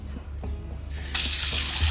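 Tap water runs into a cooking vessel being washed, a soft trickle that swells into a loud, steady gush partway through, close up with no talk.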